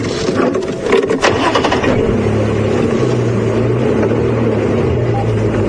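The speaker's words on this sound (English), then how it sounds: "I'm just going to move the car a little bit down the road." Safari vehicle at Djuma Game Reserve cranks and catches with a rough burst of noise, then settles into a steady low engine idle and rumble as it pulls away, fairly close and alone without voices.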